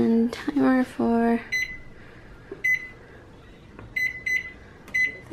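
A kitchen timer is set while baking fall cookies: a few quick button tones come first, then a series of short, bright beeps spaced irregularly over a quiet room background.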